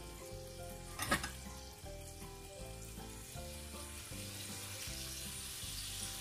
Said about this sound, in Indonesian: Menggoreng baksonya sebaiknya kita putar-putar supaya kopongnya rata.